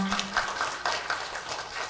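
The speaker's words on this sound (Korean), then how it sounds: "우리 하나님 앞에 영광의 박수 올려드립니다." Applause from a church congregation at a praise concert, a brief patter of clapping rising in uneven bursts, moderately near, with a faint low tone at the start.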